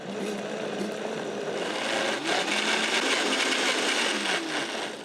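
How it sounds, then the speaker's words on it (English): A blender blitzes a pink pitaya smoothie with sweetened fruit, a steady broadband whir that runs continuously and fairly loud for the whole stretch, with no talking over it. "a blender does create heat, so the faster you blend this, the better"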